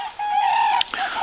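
Loud, sustained trumpeting calls of common cranes, layered and continuous, with a brief sharper note in the middle, heard outdoors at moderate distance.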